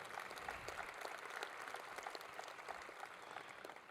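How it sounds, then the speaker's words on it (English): Crowd at a city's State of the City address applauds in a dense, even wash of clapping that stays faint and distant for several seconds. "That is worthy of applause."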